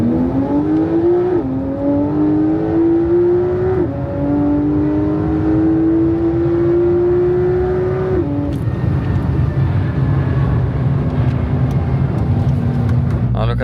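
An 1100 bhp Porsche 911 Turbo S ES900 accelerating hard, the engine pitch climbing through repeated gear changes with sharp drops between pulls, loud and close from inside the car, with a burst of louder noise near the end.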